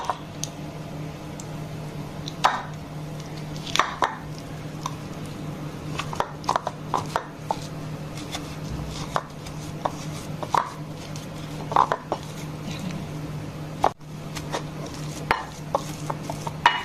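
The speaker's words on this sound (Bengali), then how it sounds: "আলু দুটোকে ম্যাশ করে নিব সিদ্ধ হয়ে গেছে ম্যাশ করে নিব" Boiled potatoes being mashed by hand, giving scattered soft taps, squishes and light clacks at an uneven pace, close and fairly quiet over a faint steady room hum, with no talking.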